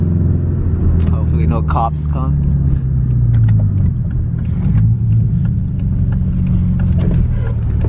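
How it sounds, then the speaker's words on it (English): A Subaru Impreza 2.5 RS with its muffler deleted roars loud and close during a donut, its engine drone rising and falling under voices talking over it. "It's loud as fuck"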